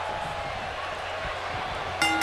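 A wrestling ring bell rings once at a fan-run wrestling event, a bright metallic strike with sustained tone cutting in near the end over steady arena crowd murmur.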